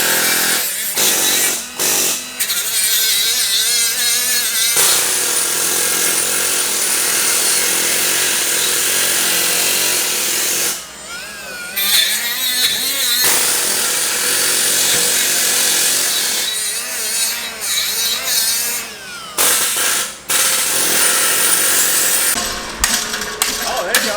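Power tool grinding the two small tabs off the metal strap over a ball joint on a BMW E36 project car, a loud, continuous abrasive whine that runs for long stretches with a few short pauses.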